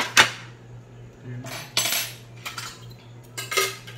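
Plates and dishes clink and clatter in a few separate bursts as they are handled, with a steady low hum underneath.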